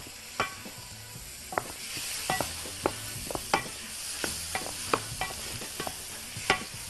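Onion and liver fry in a hot pan with a constant sizzle, broken by sharp, irregular clacks of a utensil stirring against the metal. The sounds are close, and there is no speech.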